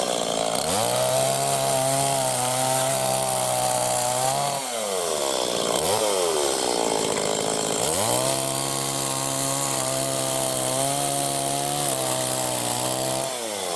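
Chainsaw cutting delivered firewood in a village yard, engine loud and close with a steady buzzing drone, briefly dipping and revving back up as the blade bites through logs.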